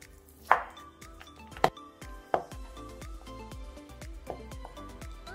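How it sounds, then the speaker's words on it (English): A knife coarsely chops 125 grams of butter on a board: a run of sharp, quiet knocks at uneven intervals, a few louder strikes early on, then lighter taps. "Coarsely chop 125 gram of butter."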